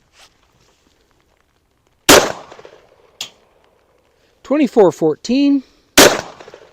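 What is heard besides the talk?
LC carbine gunshots firing 5.7x28 reloads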